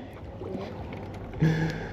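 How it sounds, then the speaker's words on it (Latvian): An old boat motors away across a lake, its engine a faint, distant drone under steady background noise, swelling briefly near the end. "Rekur aizbrauca mana vecā laiva."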